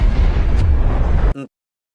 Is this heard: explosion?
yes